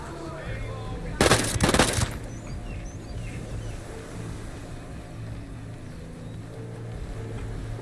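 A short loud burst from a Scorpion Evo 3 close-quarter-combat SMG in Ghost Recon Breakpoint, lasting under a second amid quiet outdoor ambience, then fading into low background rumble with no talking.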